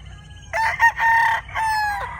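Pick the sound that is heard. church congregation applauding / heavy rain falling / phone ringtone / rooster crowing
rooster crowing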